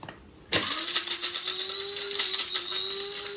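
An electric grinder whirs coriander seed powder and mace powder together for a traditional boiled Christmas pudding, cutting in abruptly after a moment of silence as a loud, steady motor whine with rattling buzz that holds to the end.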